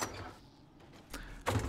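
A door sliding shut in 7 Days to Die, a quiet stretch broken by a soft thump and then a louder closing thunk at the end, heard close by and alone.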